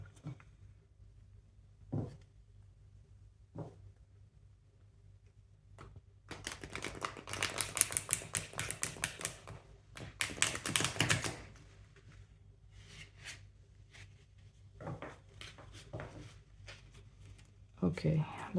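Tarot cards are shuffled by hand in bursts of dense riffling and flicking, quiet and close, with scattered taps and soft card handling between the louder shuffles.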